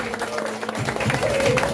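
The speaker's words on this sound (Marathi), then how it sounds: "टाळ्या होत्या टाळ्या नंतर होईल टाळ्या होत्या जोरात" Applause from the audience at a school felicitation and farewell ceremony at a Vidya Mandir in Jogamwadi, Radhanagari: a steady, dense patter of many hands clapping that fills the whole stretch at moderate loudness, with a faint tone running beneath.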